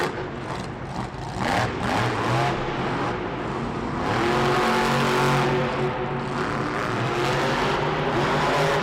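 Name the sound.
Monster Jam monster truck engine revving in arena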